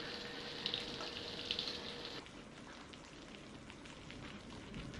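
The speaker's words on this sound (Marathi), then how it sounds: "दोन उभे चिरलेले कांदे घाला व कांदा लाल होईपर्यंत परतून घ्या" Sliced onions frying in a pan for Konkani-style prawn rice, a faint, steady crackling sizzle with scattered pops, briefly joined early on by a higher clinking tone that then drops away.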